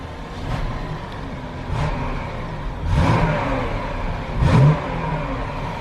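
A BMW 760 Li engine idles steadily nearby with a smooth, continuous hum, and it swells in four gentle revs spaced roughly a second apart, the last one the strongest.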